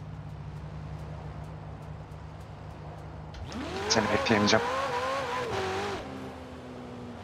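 A Ferrari Portofino convertible in the racing game Forza Horizon 4 revs up after a quiet stretch, its engine note rising and wavering loudly for a few seconds before easing back, with a brief line of speech early on.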